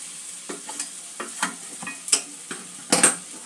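Potato and papaya pieces sautéed with spices in a pan for a vegetarian poppy-seed dish, heard as a soft background sizzle broken by repeated spatula scrapes and stirring clinks in an irregular rhythm.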